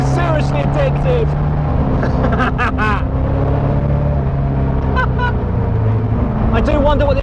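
A Caterham Seven 270S sports car lapping a dry, sunny race track, its engine note steady and loud with rising and falling revs through corners, while someone talks over it throughout.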